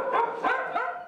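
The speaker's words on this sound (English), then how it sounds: "This dog we call Wisdom" A stray dog in Thailand barks and whimpers in a short run of three close, loud yelping barks, heard alone with no talk.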